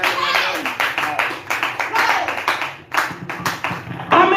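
A church congregation claps to acclaim the Lord, dense close rapid handclaps sustained throughout with brief dips, under and around voices speaking.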